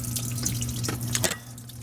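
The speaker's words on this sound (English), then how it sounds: "All right, dripping from right there, dripping from way back there" Water dripping from a leak in an old house with water-damaged subfloor, a few soft, irregular drips and splashes over a quiet background with a low electrical hum.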